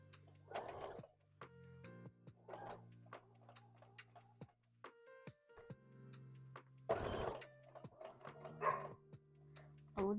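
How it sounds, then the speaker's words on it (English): Dogs bark in several loud, separate bursts while a sewing machine stitching plushies clicks and hums in short runs in between, all fairly close indoors. "dogs are barking."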